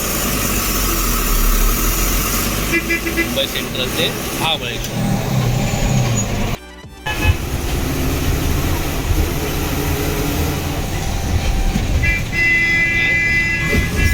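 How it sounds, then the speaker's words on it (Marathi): A bus pulls out of the Mumbai Central depot on a night trip toward Mahabaleshwar, its steady engine rumble and road noise running throughout beneath people talking, with a brief dropout partway through. "फायनली आपली गाडी निघालेली आहे मुंबई सेंट्रल डेपोमधून"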